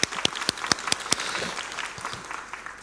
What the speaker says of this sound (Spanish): Un aplauso para Clement.